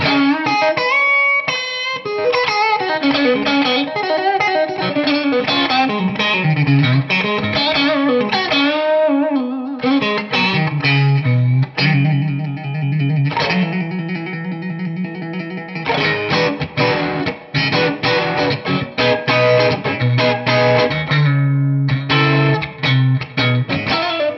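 Electric guitar, a John Cruz Masterbuilt Vaughan Brothers Stratocaster, played through an overdrive pedal with a crunchy tone, a long run of phrases, bends and chords, loud and up close with no talking.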